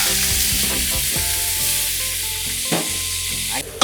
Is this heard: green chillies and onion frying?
yes